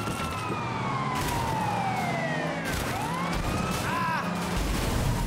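A police siren wails in the open-world Sleeping Dogs video game, its sweeping up-and-down tones cutting loudly through constant engine and traffic noise during a car chase.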